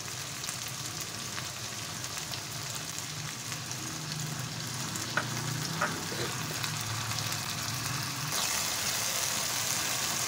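Tomato paste frying in a hot pan for dhaba-style daal maash gives a steady, close sizzling hiss that runs unbroken throughout, with no talking over it.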